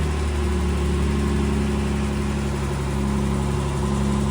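A Jaguar XKE engine, parked since 1996, idles steadily, a low, even rumble with a constant mechanical hum and no revving.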